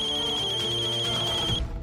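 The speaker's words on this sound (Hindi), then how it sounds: "तभी अभिनव का फोन फिर से बजा।" A mobile phone ringtone plays a steady electronic melody with a high sustained tone, close and loud, then stops abruptly.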